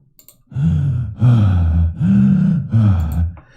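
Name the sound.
looping breathing sound effect audio file in Unreal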